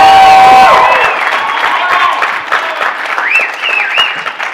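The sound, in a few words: audience applause and cheering at a panel discussion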